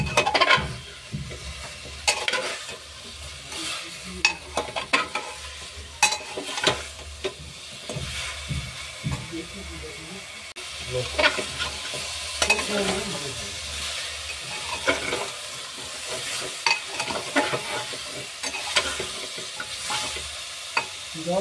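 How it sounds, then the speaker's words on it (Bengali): Chicken feet shallow frying in a pan, a steady sizzle broken by frequent scraping stirs and clatters, close and continuous. "ওটাকে একটু শ্যালো ফ্রাই করে নেব।"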